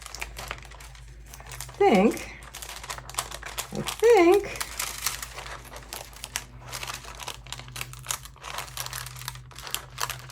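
Dried homemade rice paper crackles and crinkles as it is peeled off wax paper, in close, irregular rustles, with a brief spoken remark over it.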